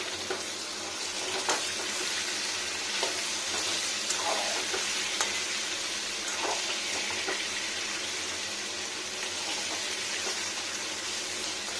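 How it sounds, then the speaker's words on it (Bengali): Potatoes fry in oil for a vegetarian moringa flower dish, giving a continuous soft crackling sizzle with occasional faint clicks of a spatula, steady and unaccompanied by talk. "আলুগুলো একটু ভেজে আসুক"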